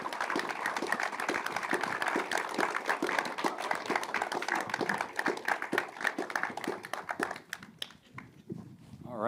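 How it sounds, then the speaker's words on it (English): Dense applause from an audience greeting panelists taking the stage at a Sundance panel, many hands clapping steadily for most of the stretch before thinning out and fading near the end. "let's give a big round of applause to the creators of Bucks County"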